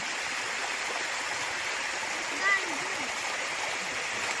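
Water from a waterfall and stream at a remote falls in the Philippines, reached after a long hike, rushing as a steady broadband roar throughout, with a brief faint voice-like sound midway.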